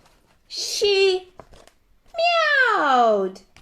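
A voice imitates a cat with two loud, drawn-out meows, the second longer and sliding downward, separated by a short pause.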